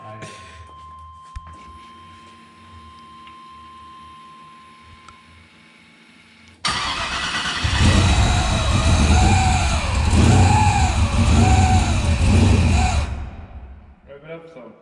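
An LS V8 swapped into a GMC Syclone cranks and catches, then roars into loud, rising revs that hold for several seconds before easing off, following a quieter stretch of low background noise.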